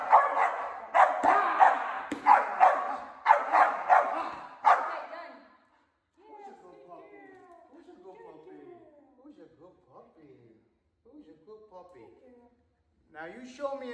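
A Belgian Malinois family protection dog barks loudly and repeatedly in sharp bursts, then snarls and growls in lower, rougher runs during an attack demonstration, with a final bark at the end.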